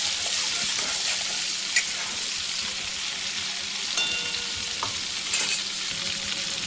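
Oil and butter heating in a kadhai (wok) give a steady, moderate sizzle with broadband hiss and a few soft clicks and pops, with no talking.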